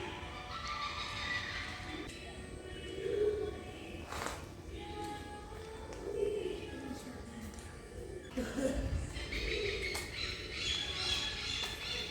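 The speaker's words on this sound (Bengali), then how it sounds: "প্রচুর পাখি ডাকছে" Many birds squawk and call outside the Jungli Baba Shiva temple, mostly at a distance, in a quiet outdoor setting. Soft background noise and faint voices sit underneath.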